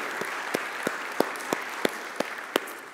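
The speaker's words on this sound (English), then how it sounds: "Can we give all of them a big, huge round of applause?" An audience applauds in a church or lecture setting, with a steady soft wash of clapping and a few louder individual claps standing out at regular intervals, moderately distant and without speech over it.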